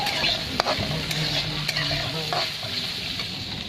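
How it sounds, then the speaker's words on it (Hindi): Chopped onion fries for a tadka in a pan while being stirred, cooked inside an Indian truck. The sizzle is loud, close and continuous, with scraping stir strokes on top. "ये प्याज की फ्राई तड़का बनने लग रहा है अभी।"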